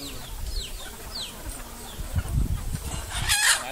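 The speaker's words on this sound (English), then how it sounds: "so now all the chicken here, there's more." Chickens cluck and squawk during feeding in a farmyard, with a rooster's crow rising near the end and a low rumbling, shuffling background.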